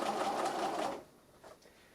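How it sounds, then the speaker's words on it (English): A sewing machine back stitches through fabric while sewing a plush bunny, a steady close whirring run of about a second that stops abruptly into quiet. "We back stitch to secure that in place."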